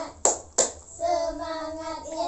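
A class of children gives two sharp, loud hand claps in quick succession for a spirit clap, followed by a chorus of young voices chanting together.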